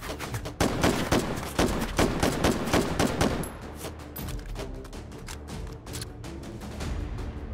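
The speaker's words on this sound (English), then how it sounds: "They're shooting at me." Enemy gunfire aimed at the player in the VR shooter Hot Dogs, Horseshoes & Hand Grenades, rapid rhythmic volleys of sharp shots, loud at first, then continuing more faintly with scattered cracks.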